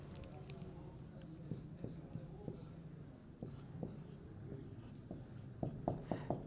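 A pen scratches out notes in a quiet room, with short irregular strokes and taps heard up close and faint, and soft voices murmuring now and then underneath.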